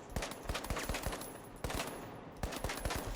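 Automatic gunfire from a medium-class weapon in the first-person shooter The Finals, heard as rapid bursts of roughly eleven shots, a brief pause, then about nine more, loud and close with no talking.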